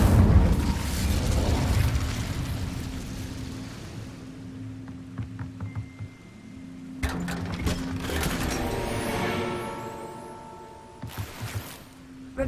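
A burst of flame from the Incendio fire spell in Hogwarts Legacy, a roaring whoosh with booming crackle that fades, then renewed mechanical clatter and bright ringing tones toward the end.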